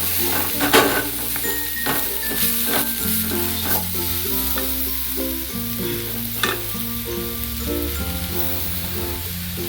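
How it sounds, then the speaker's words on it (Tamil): Curry leaves sizzle in a pan over a medium-low flame while making curd rice, a steady crackling fry with light stirring, heard alongside soft tonal background music and no voices. "கொஞ்சம் கருவேப்பிலையும் போட்டுக்கலாம் கொஞ்சம் மீடியமுக்கும் சிம்முக்கும் நடுவில் வச்சு கொஞ்சம் நேரம் வேகட்டுங்க"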